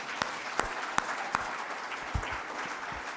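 A few scattered hand claps from an audience at a French medical talk: four crisp, evenly spaced claps in the first second and a half, then softer patter trailing off, all fairly faint.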